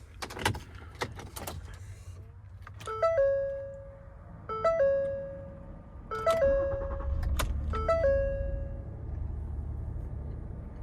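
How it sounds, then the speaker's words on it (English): Keys rattle briefly at the start, then a 2014 Ford Explorer's electronics chime in several spaced bursts of tones over a low engine hum that settles into a steady idle. "I'm gonna get my keys out here and we'll turn it on."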